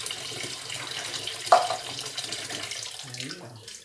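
Water runs steadily from a kitchen tap into a cooking pot for boiling after the sautéing step, a close, continuous hiss with a soft clunk partway through and faint background voices.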